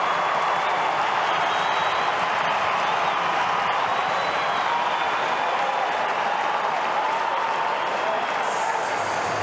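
Port Adelaide fans roar and applaud a goal at Adelaide Oval during an AFL preliminary final, a dense sustained stadium crowd roar filling the whole stretch.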